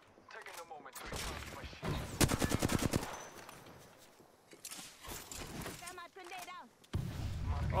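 Gunfire from the video game Apex Legends comes in rapid automatic bursts and scattered single shots amid game effects, with voices speaking between the firing.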